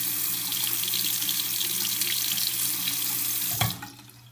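Tap water runs steadily into a sink to wet a makeup brush, a close, even splashing stream that cuts off abruptly near the end.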